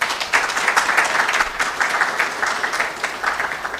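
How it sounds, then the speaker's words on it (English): An audience breaks into applause for a professor at a health research launch event, many hands clapping in a lively, continuous patter that stays loud and close throughout. "if you could stand for a round of applause"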